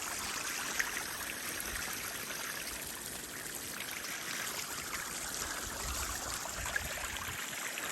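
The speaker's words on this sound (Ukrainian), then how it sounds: "накрили брезентом, набираємо воду двома насосами" Two pumps send a steady stream of water into a tarp-lined backyard pond under construction, a continuous splashing, trickling flow close by with no voices.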